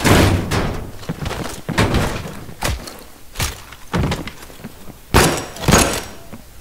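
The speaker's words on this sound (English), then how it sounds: "Open this red door up." A red door in the Black Ops Cold War video game opens with a series of heavy metallic slams and thuds, loud and close, spaced irregularly across the clip.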